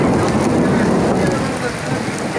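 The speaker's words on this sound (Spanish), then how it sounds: "No podemos salir, sigue lloviendo durísimo." Heavy rain pours hard outside, a loud, dense, unbroken roar with a deep low rumble and some wind, heard close from indoors.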